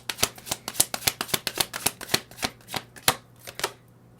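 Tarot cards being shuffled by hand, a run of crisp slapping riffles in a fairly steady rhythm that slows and thins toward the end, close and quiet with no voice.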